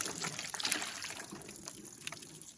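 Water is poured over pieces of Nephi, Utah fossil wood, a continuous close trickling and splashing that runs steadily for a few seconds.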